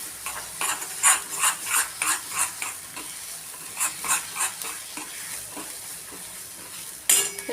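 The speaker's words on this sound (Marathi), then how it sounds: "हे बघा, आपला मसाला किती छान फ्राय होत आलेला आहे" Masala sizzling in hot oil in a pan for a cashew curry, with a rhythmic series of stirring scrapes and pulses of frying noise, close and alone without speech.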